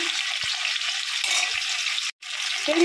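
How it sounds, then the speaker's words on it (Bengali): Fish frying in hot oil for a Bengali fish curry gives a steady, close crackling sizzle throughout, broken by one brief dropout near the end, with no talking. "মাছের ঝোল করার জন্য মাছ ভাজা বসিয়ে দিয়েছি।"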